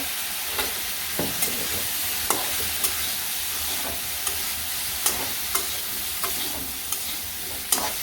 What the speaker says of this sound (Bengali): এটা হালকা একটু ভাজি ভাজি হলে পরে সাথে আলু মিশিয়ে দিব